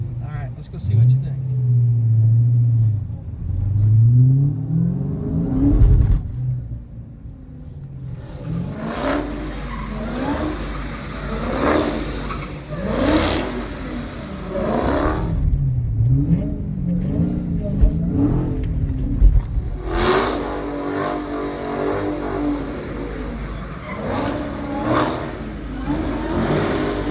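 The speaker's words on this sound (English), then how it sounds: "we got to ride in a car that was drifting, sort of" A car drifting at a demo ride event, its engine revving hard and falling away again while tires squeal and skid over a steady rumble, loud and close, with people talking over it.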